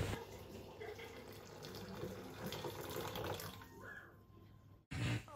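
Hot water is poured over a cup of lentils in a kitchen to soak them, making a steady splashing stream for several seconds. It cuts off abruptly, and a brief clatter follows.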